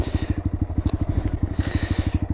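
A Honda Grom motorcycle riding on a freeway, its small engine pulsing in a fast, even low thrum close by, with wind rush rising around it and no talk.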